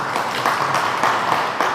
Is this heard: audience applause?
yes